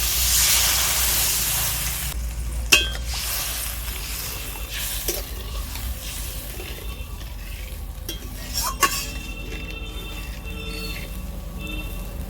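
Water poured into fried, well-cooked spice paste for an egg curry gravy, setting off a steady hiss and sizzle in the pan with occasional stirring clinks, continuous and close with no talking.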